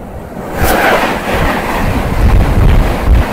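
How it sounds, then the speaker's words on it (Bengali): A local train runs along the Howrah–Masagram chord line beside a busy road, giving a loud, continuous roar and rattle with a brief sharp hiss early on and a low rumble throughout. "এদিক থেকে ট্রেন চলছে"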